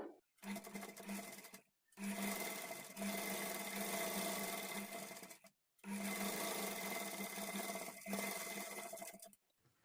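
A sewing machine stitches thread piping onto a sleeve in three steady runs of rapid, even whirring, separated by brief silent pauses, close and fairly quiet with no talking.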